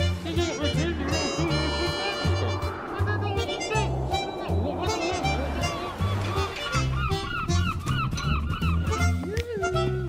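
Geese honk repeatedly within a played music clip about birds, loud honks layered over a steady rhythmic beat and music for about ten seconds.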